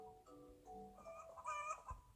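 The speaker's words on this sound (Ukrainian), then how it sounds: "Е, кури бігають. А ну, кури! О, курка!" Chickens cluck and squawk in the video game SchoolboyEscape2, a run of close, busy fowl calls with a rooster-like crow rising near the end and no talking.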